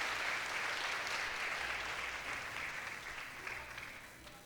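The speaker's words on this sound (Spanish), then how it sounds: "Denle un aplauso al Señor." A church congregation applauding, a dense steady wash of many hands clapping that holds strong and then gradually fades toward the end, heard from within the room.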